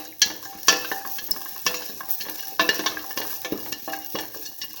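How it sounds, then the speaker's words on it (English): Shallots, four to five of them, sizzle and fry in a pan, with a steady crackle broken by sharp clinks and scrapes of a utensil stirring against the pan. "Now put in the shallots, 4 to 5 shallots"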